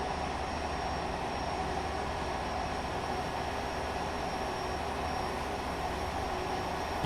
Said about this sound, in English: You can hear the engines. I'll let you listen to it.